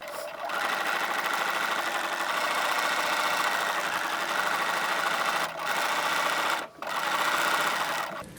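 A sewing machine runs a basting line through lightweight lingerie fabric, its fast, even whirring loud and close, with short stops near the end.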